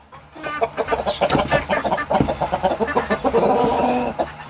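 Excited rooster and hens on a farm in summer heat, a dense run of close, loud clucks and squawks overlapping continuously with no pauses.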